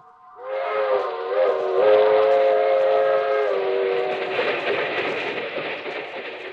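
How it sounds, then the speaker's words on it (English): A train horn blares a long, loud chord that holds steady, then fades into the rumble of a passing train, in an old-time radio drama. "That train is the Southeast Limited."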